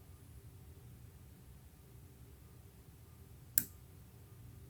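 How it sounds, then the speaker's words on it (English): A CJRB Ria folding knife snaps shut with a single sharp detent click, close and isolated against a quiet background. "I love the sound when this knife closes too. You can hear that detent engaging."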